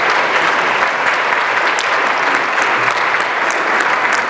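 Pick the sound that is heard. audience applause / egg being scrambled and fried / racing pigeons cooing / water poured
audience applause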